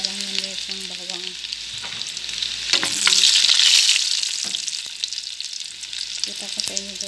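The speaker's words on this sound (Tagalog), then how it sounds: "mag-isa na ako ng bawang" Garlic sautés in a pan with a steady, close sizzle of frying. Stirring clinks and scrapes sound over it, and a brief louder hiss swells partway through.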